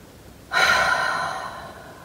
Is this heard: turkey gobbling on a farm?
no